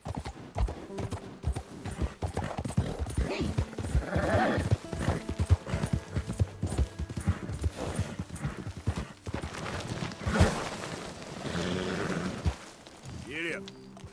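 Rhythmic clip-clop of horse hooves from a PS4 video game, galloping steadily under a man's frequent spoken commands and game music, with a brief whinny near the end.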